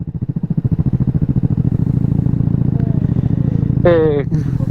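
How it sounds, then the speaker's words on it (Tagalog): Motorcycle engine chugging with a steady rhythmic pulse nearby, loud and continuous, with a brief rising horn-like or voice tone near the end; a Honda Super Cup is around. "Oy, Super Cup Mike sa likod oh"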